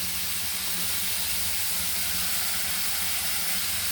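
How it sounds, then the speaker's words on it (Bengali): Fish tipped into a hot pan for a thin Bengali curry with potato, eggplant and singi fish, giving a steady, loud broadband hiss and sizzle that runs unbroken throughout. "মাছগুলো আমি এবার ঢেলে দিচ্ছি।"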